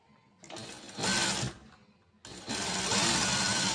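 A sewing machine stitches folded blouse fabric in two loud, steady runs of rapid mechanical whirring, the first about a second long and the second longer, separated by a short pause.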